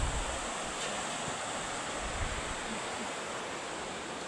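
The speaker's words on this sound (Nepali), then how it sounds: "हावा आउँदो रहेछ यहाँ त" Wind gusts near a river produce a steady, broadband rushing roar that stays loud and even, with low rumbling buffets across the microphone.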